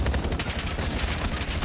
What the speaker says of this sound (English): I don't think you could be under any more gunfire if you tried